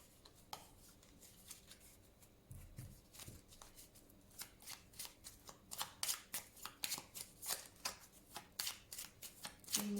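Tarot cards being shuffled by hand, first soft riffling, then a quick run of crisp, evenly spaced card slaps close up, with no talking.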